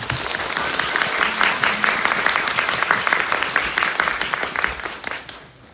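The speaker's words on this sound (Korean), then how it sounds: "우선 박수 부탁드립니다" A cinema audience at a Korean film screening Q&A in Seoul applauds loudly and continuously with crisp, dense clapping for several seconds, then stops abruptly.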